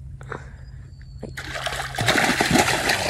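A freshly hooked barracuda thrashes and splashes in water while sea fishing with lures, starting with a few drips and building into loud, close, continuous splashing and churning.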